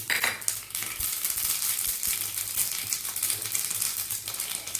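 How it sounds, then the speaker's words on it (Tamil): Mustard seeds spluttering in hot coconut oil in a pan for Tirunelveli sodhi, a busy crackle of rapid pops and sizzling that runs the whole way, fairly close and moderately loud, with no talking. "சட்டி காஞ்சிச்சு கடுகை போட்டுவோம்"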